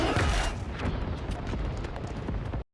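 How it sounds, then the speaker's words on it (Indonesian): A dense, roaring blast of many bombs shaped like fireflies exploding together in an animated series, loud and continuous with crackling bursts, then cutting off abruptly. "Kunang-kunang tersebut meledak dalam jumlah yang banyak"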